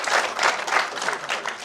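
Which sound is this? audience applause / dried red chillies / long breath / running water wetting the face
audience applause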